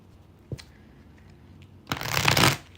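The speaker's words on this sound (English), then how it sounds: "Alright, shuffle this." A deck of tarot cards is shuffled close up: a short tap first, then a loud riffling burst lasting about half a second.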